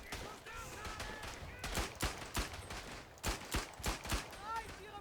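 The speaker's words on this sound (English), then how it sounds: "Fire at will. Just keep the bullets flying." Rifle fire in the World War I shooter Verdun: irregular volleys of cracking shots, several close together, with distant shouting voices in the background.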